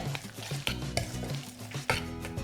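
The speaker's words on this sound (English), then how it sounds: "Peas are drained, so they're going to go in and we're going to mash them all together." Close kitchen clatter of a utensil pressing and scraping drained cooked peas in a pan, mashing them, with a few thuds and a soft sizzle underneath, no talking.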